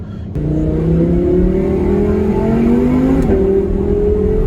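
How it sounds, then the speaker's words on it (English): A 2017 Audi R8 V10 Le Mans Edition engine idles then revs up with a loud, rising exhaust roar, pitch climbing steadily, sustained and close, with a brief gear shift midway. "I just turned on the exhaust for you."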